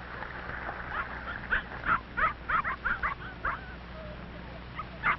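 A big red setter barks in a series of sharp, mid-distance yips and woofs, about a dozen short bursts coming in an uneven rhythm, with a couple more at the end after a short pause.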